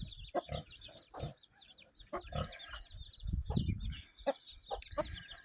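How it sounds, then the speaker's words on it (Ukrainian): Shamo game chickens in a farmyard: young chicks peep in high continuous chirps while hens cluck in short low bursts, fairly faint and close, with no talking. "Оце курчатка цієї породи."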